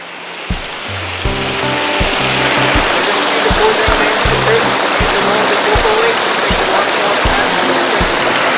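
Steady rushing water from a waterfall at Indiana's first state park fills the background, overlaid by regular low thumping beats and musical tones.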